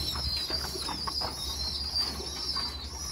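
Pigeons kept as pets coo and flutter near a water dish, soft throaty calls and bursts of wingbeats over a steady background, close by with no talking.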